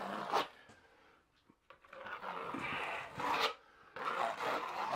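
A corner trowel scrapes and smears along a corner, embedding Wedi waterproofing in a curbless shower: intermittent close rasping strokes with brief quiet gaps, fairly soft overall; no talking.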